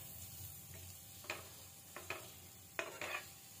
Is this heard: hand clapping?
no